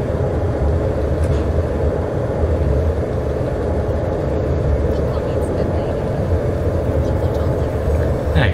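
A train rumbles past in the Open Rails simulator on the Poznań Główny to Inowrocław route, a steady loud low roar of wheels and motion lasting throughout with no break.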